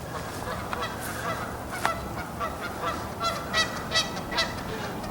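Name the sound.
geese honking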